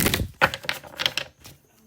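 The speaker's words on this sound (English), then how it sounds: "Let me shuffle again." A deck of tarot cards is shuffled by hand in a series of quick riffling snaps and clattering bursts, loud and close, trailing off into quiet near the end.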